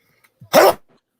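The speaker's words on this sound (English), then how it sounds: "going to sneeze" One sharp, explosive sneeze, close and loud, preceded by a quick intake of breath.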